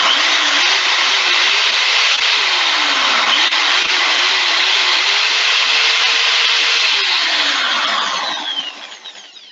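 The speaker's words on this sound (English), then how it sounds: "I'm putting a hand drill and plug it into the system. As you can see, I can turn it on and it works" A hand drill runs steadily off a home energy system, a continuous whirring motor hum with slight speed wobbles that winds down near the end, alone without talk.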